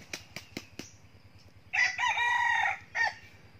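A young rooster set loose in a forest beats its wings in four sharp flaps, then lets out a loud, close crow followed by a short final note, alone without talk.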